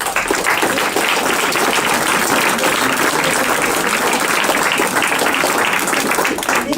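A crowd at an amateur artists' exhibition opening in Belleu applauds, steady dense clapping at full loudness filling the room throughout without a break.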